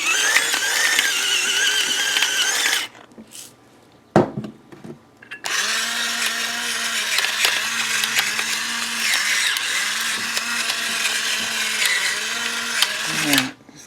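A pepper and salt grinder cranked over turkey legs in a kitchen, a loud close ratcheting grind running for a few seconds, pausing briefly, then resuming steadily for several more seconds.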